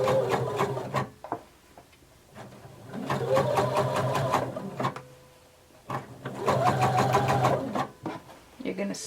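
Sewing machine stitching a garment seam slowly around curves, running in two long bursts with a short stop between, close and steady, with someone talking over parts of it.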